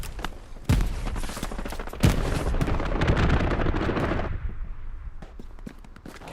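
Grenades and gunfire in the Hell Let Loose multiplayer battle on the Hurtgen Siegfried Line, with sharp explosive booms and dense crackling shots, loud and close, that thin out toward the end.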